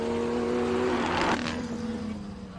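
BMW 240 race car at a hill climb, its engine note loud and close as it sweeps past with a rising then falling tone, no talk over it.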